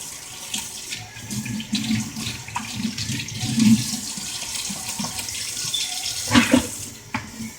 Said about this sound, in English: Trying to wash some dishes at the same time